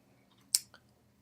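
Computer mouse double-clicking at a desk, two quick faint clicks in near silence.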